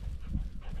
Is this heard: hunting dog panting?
yes